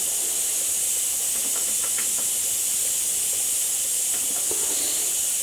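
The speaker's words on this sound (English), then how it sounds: "The pressure cooker is up to steam." A pressure cooker up to steam, hissing loudly and steadily throughout, with faint clicks and rattles beneath the constant hiss.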